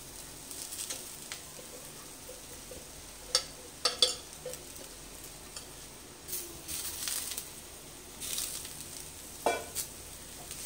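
Shredded cabbage goes into a pan of browned onions and fries with a soft, faint sizzle, broken by a few scattered spatula scrapes and knocks.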